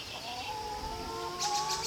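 Chickens cluck softly in a steady farmyard background among pigs, with a brief brighter chirping near the end.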